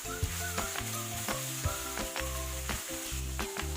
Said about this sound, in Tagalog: Maglagay ulit ng konting mantika at stir fry muna natin ang ating chicken.